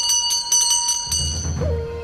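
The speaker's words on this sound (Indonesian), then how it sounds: "Mereka sampai di sebuah rumah dan membunyikan lonceng." A bright bell rings at a house with a few quick metallic strikes that leave a ringing tone, followed by low muffled rumbling and shuffling.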